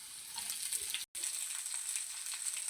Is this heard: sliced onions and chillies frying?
yes